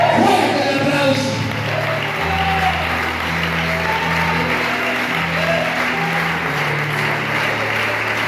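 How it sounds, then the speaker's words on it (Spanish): Church congregation applauding in a dense, steady wash of clapping across a worship service, with sustained music or organ-like tones running underneath throughout. "Fuerte el aplauso."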